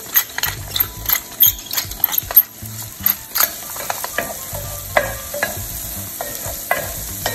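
Sliced mushrooms sauté in a pan, a spatula scraping and tapping in quick bursts over a low background sizzle, close up and loud, the stirring easing off toward the end; nobody speaks.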